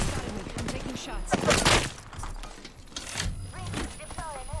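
Automatic gunfire from a Spitfire rifle in a first-person shooter game, rapid bursts crackling under a player's talk, fairly loud with a busy mix of game effects.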